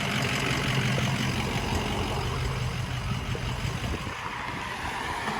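A heavy SEMA show truck's engine runs after a badly unbalanced drive shaft tore loose and ripped off its wiring harness, a loud, steady low rumble with a rough idle that carries on unbroken.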